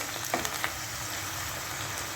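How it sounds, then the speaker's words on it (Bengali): Onions frying with soy sauce in a hot pan give a continuous, even sizzle at close range, moderately quiet, with a couple of faint clicks early on and no talking. "সোয়া সসটা পেঁয়াজের সঙ্গে একটু ভাজা ভাজা হোক।"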